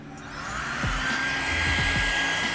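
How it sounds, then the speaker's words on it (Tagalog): An electric air bed pump runs on a River 3 Max Plus portable power station, giving a steady whooshing blower drone with a few low thumps partway through. "air bed pump"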